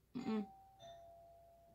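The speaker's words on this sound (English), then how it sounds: "My doorbell just rang." A doorbell chimes two tones, a bright ding then a softer dong, ringing out and fading in a quiet room.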